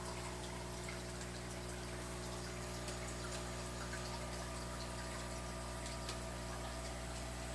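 Bubbling water in a home aquarium holding black neon tetras and a loach, a constant dense fizz with a steady pump hum underneath, even and unbroken throughout.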